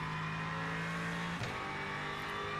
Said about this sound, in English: It's just a GT3 car. Looks good, sounds good, V8 engine.